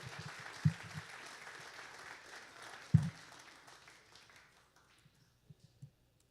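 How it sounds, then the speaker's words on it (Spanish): A church congregation applauds during a Sunday worship service, a steady wash of clapping that gradually thins and fades, leaving a few scattered last claps near the end. "Dale un aplauso al Señor"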